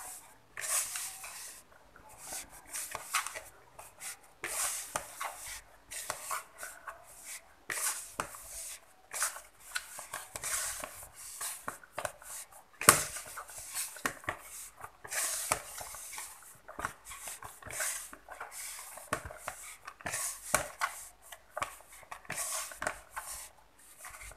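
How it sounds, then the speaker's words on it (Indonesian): Hands kneading sweet potato dough in a kitchen, giving soft, irregular squishing and patting sounds that repeat close up throughout, with occasional light taps against a bowl. "Sekarang kita uleni sampai semuanya tercampur rata"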